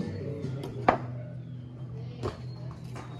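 A couple of sharp chopping strikes land a second or so apart, a machete blade thudding into something hard against a low steady hum.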